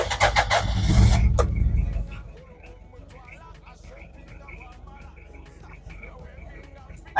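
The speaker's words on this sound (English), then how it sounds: "And then there comes the sound that I don't like of the diesel engines" Toyota Prado diesel engine starting: a loud cranking and catch with a rough surge lasting about two seconds, then settling into a quieter idle clatter.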